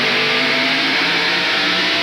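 Stock cars race in close traffic at the 1993 Hanes 500, a steady loud roar of mid-pitched engines running at speed with no break.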